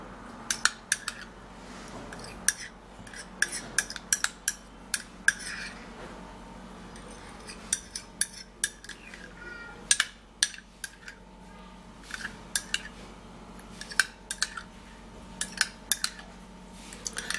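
A utensil stirring a cucumber juice mixture in a bowl, with frequent sharp clinks and scrapes against the bowl in an uneven rhythm, close and fairly loud.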